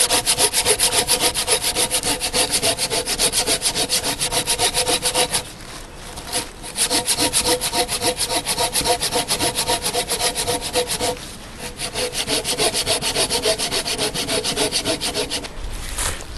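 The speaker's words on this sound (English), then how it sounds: "I like to cut my logs at about 12 inches long." A hand saw cuts through a hardwood log with a steady, rhythmic rasp of strokes, close and loud, broken by two short pauses before the sawing resumes, with no speech.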